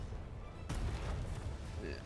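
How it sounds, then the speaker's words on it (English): Ship cannon fire in the naval battle game Atlas: a sudden heavy boom hits partway through and rumbles on, with softer battle noise continuing after it. "I'm loading the front cannon."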